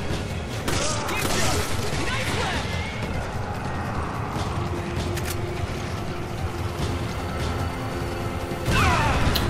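An explosive thrown by an enemy detonates in Resident Evil 5, a loud blast with crashing debris inside dense game noise, followed by continued rumbling action and a second burst near the end.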